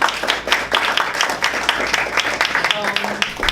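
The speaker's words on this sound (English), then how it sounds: "please give her a round of applause." Clapping from a club audience at a Toastmasters meeting, a short lively burst of hands with talk mixed in toward the end.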